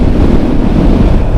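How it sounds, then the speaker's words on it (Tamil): Strong wind buffets the microphone while riding along an open road, a loud, steady rushing roar with no pauses, alone and filling the whole stretch. "சரியான விண்ட் பிளாஸ்ட்"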